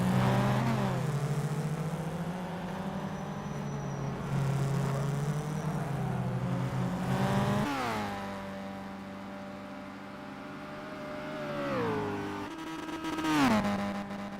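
A VL Commodore race car in a Bathurst sim race drones at high revs down the straight, its engine pitch climbing steadily and dropping sharply at several gear changes, loud and continuous throughout.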